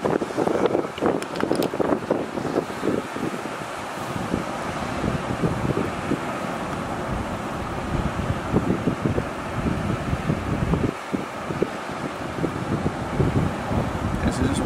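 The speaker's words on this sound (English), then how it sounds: "this wind's picked up quite a bit also" Strong wind blows steadily on a rocky surf-fishing shore, a constant loud rush and buffeting against the microphone throughout, with no break or lull.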